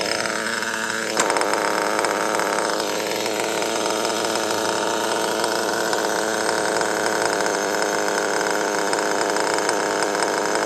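A small engine, apparently a chainsaw, idles steadily and loudly up close, with one brief blip near the start before it settles into a constant buzz.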